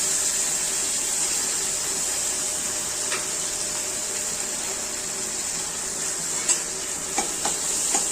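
Potatoes and carrots fry in a pan while being stirred, a steady close sizzle with a few sharp spatula taps and scrapes near the end.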